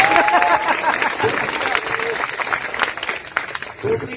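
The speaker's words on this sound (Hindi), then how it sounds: "मैं ये चाहूंगा सर के लिए जोरदार ताली बजाना" An audience applauds a teacher at a gathering, a dense, fairly loud wash of clapping that runs throughout, with voices faintly audible beneath it.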